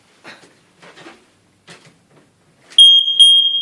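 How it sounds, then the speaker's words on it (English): Smoke alarm being tested in a house room, a loud piercing electronic beep sounding twice in quick succession after a few quiet scuffs and faint movement. "so battery to that smoke alarm appears to work"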